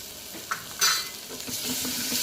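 Cumin-pepper powder fries and sizzles in a pan for dal rasam, with a couple of brief scraping stirs partway through and a steady, close frying hiss that continues to the end.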